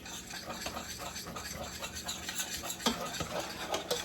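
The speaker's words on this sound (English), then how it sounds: "Now we're just gonna stir it in here." Homemade macaroni and cheese being stirred in a pot, a steady scraping and clinking of a utensil against the metal with soft wet squelches, close and fairly quiet, with no talking.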